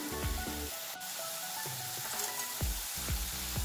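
Spice masala sautés in a pan in a steady sizzle, broken by several sharp clicks and scrapes of a spoon against the pan, close and moderately loud.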